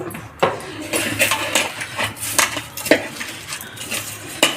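Rice-flour dough is mixed by hand with salt and sugar in a bowl, giving a steady run of soft clinks, taps and scrapes against the bowl at close range.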